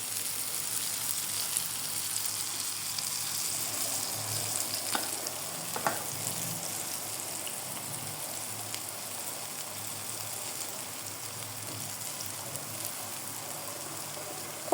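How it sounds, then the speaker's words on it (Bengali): Raw banana kofta balls frying in oil in a pan, a steady soft sizzle and crackle running throughout, close and even, with a couple of brief utensil touches partway through and no talking. "আর একটু ভাজা ভাজা হবে"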